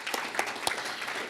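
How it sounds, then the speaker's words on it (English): An audience at a conference speaker session claps steadily and fairly densely for about a second and a half, with a few louder individual claps standing out. "Let's give him a big round of applause."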